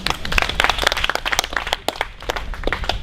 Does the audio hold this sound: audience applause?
yes